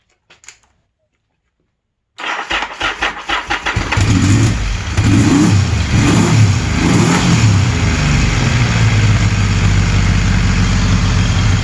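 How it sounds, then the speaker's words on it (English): A 1981 Yamaha XS850 motorcycle engine with synced carburetors and no breathers fitted catches after brief cranking, then settles into a loud, steady, slightly high idle close by, with no talk over it. "Now it's idling a little bit heavy, a little bit high."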